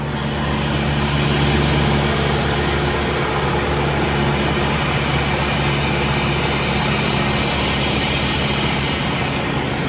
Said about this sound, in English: This is the second helicopter, the second Mercy Air helicopter.